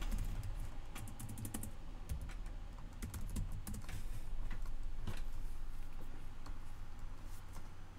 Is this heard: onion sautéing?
no